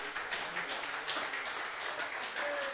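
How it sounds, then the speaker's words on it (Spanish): A church congregation claps hands together in a steady, even rhythm, faint and diffuse as if heard from across a large room, with a soft tone sounding near the end. "Vamos, denle fuerte palmas a Dios."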